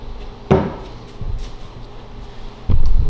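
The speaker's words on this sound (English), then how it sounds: "self-closing doors" Self-closing doors on a small utility cart shutting, giving two firm close-range knocks with a soft thud between them against quiet shop background.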